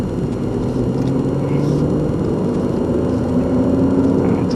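A 2022 MINI Cooper Hardtop 2-Door with a 3-cylinder engine and manual transmission drones steadily from inside the cabin while driving, a constant low engine and road rumble.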